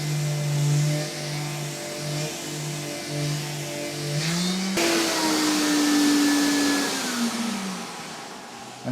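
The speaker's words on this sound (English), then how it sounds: "In fact, this whole sander will suck itself to the wall." A P120 drywall sander with suction runs steadily against a damp wall, its motor whine shifting pitch midway as it presses and grips the surface, loud and continuous with no talk.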